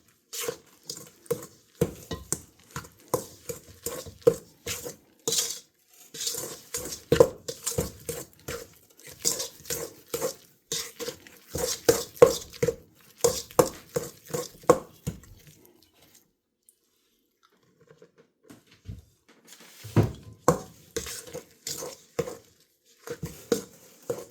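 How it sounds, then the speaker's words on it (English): Dry ingredients being stirred into lemon drop cookie dough, a series of soft, irregular scraping and squishing strokes in a bowl with a brief pause near the end, close and fairly quiet. "slowly and gradually add my dry ingredients"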